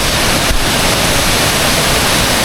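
The second falls at Bukal Falls pours down as a loud, dense, unbroken roar of falling water, very close, filling the short stretch with steady rushing noise and no voices.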